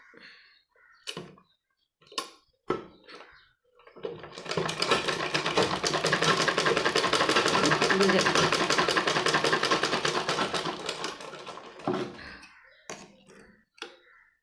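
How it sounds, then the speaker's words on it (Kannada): A sewing machine stitches the shoulder seam of a baby vest in one steady run of about eight seconds, fairly close, framed by brief handling clicks and short bursts of speech before and after. "ಇವೆರಡು ಸೇರಿಸಿ ಶೋಲ್ಡರು ಸ್ಟಿಚ್ ಮಾಡ್ಕೋಬೇಕು"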